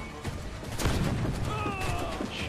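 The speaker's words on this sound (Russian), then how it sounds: "Ну-ка выстрелим сейчас туда в них." Ship cannons fire in the pirate naval combat of Assassin's Creed 4: Black Flag, with a dull boom followed by crashing, rumbling impact noise and battle clatter. Faint voices can be heard in the background.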